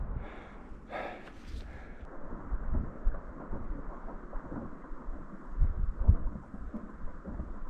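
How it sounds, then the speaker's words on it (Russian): A distant, low rumbling roar of a rockfall in the Altai mountains rolls on continuously, like rocks tumbling down a far-off slope, faint and steady with no talking. "Хороший камнепад."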